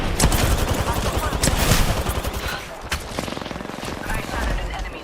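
Close, loud bursts of automatic gunfire in a shooter video game, striking an enemy's shield, with quick rattling volleys that thin into separate shots partway through before picking up again.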